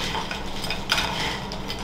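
A large serving spoon stirs trail mix of cereal and nuts in a bowl, giving a brief close rustling and clattering with one sharper clink midway, no voices.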